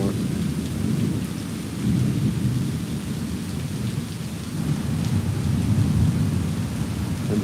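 Heavy rain pours steadily during a big thunderstorm at Disney, a dense continuous wash with deep rolling thunder rumbling underneath throughout.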